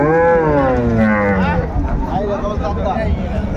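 A dairy cow moos loudly and close at the Ambari cattle market in Dinajpur. One long, drawn-out call fills the first half, then a crowd murmurs and people talk in the busy market.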